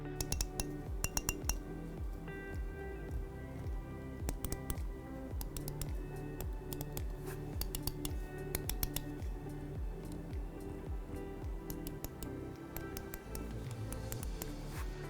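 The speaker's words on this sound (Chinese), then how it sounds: "我们来听一下按键音" Button clicks from a Razer Viper V4 Pro mouse with optical switches come in bursts of crisp, close, light clicks, some single and some in quick runs, across a quiet background.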